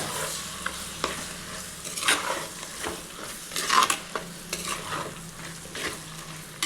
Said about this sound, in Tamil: இதையும் சேர்த்துட்டு நல்லா வதக்கி விடுங்க.